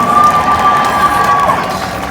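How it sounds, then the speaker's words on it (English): Outdoor protest crowd applauding and cheering, a loud, dense wash of clapping mixed with shouts and a sustained whistle or cry, holding steady and easing slightly toward the end. "Everybody give a round of applause for Dr. Rahana Henderson."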